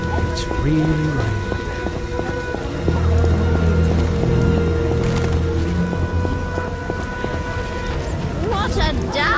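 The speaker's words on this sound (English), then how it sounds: "It's really raining." Heavy rain in The Witcher video game, a constant loud hiss of downpour with low rumbling beneath, while speech and tonal game sounds play over it.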